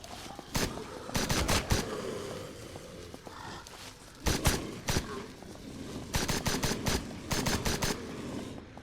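Bursts of rapid gunfire in the zombie video game Surroundead, loud clustered volleys separated by short pauses over a faint background.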